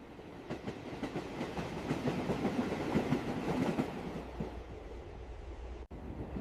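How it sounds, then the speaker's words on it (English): A passenger train rolls along with a continuous rumbling rattle and soft rhythmic clatter, swelling slightly in the middle before settling to a lower, steady drone, heard from inside the carriage. "I am boarding the train again."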